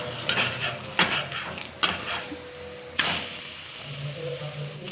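Kothimbir dhapate, a coriander flatbread, roasting on a pan, with a soft continuous sizzle broken by a few sharp scraping and clattering touches of a spatula, close and unaccompanied by talk.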